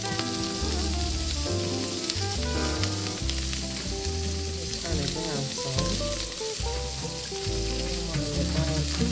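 Pieces of meat browning in a hot pan for New Orleans gumbo, a steady sizzle and crackle running throughout beneath prominent tonal background music.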